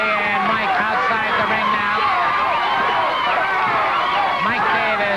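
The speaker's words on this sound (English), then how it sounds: "you can hear the chant by the crowd here at the Channel 17 Sports Arena" A wrestling crowd chants in the Channel 17 Sports Arena, a rhythmic mass of voices carrying underneath a commentator talking close and clear throughout.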